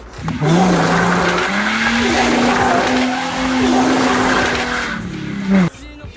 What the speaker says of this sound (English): I would end up just doing these terrible one-wheel peels that you see the V6 Mustangs do